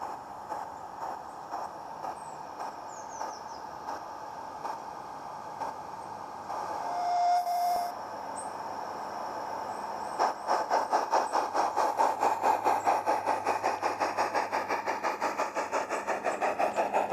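A passenger train on the Peckforton Light Railway arrives at a small station, first as a low distant engine hum with a brief squeal, then a nearer rhythmic chuffing beat that grows steadily.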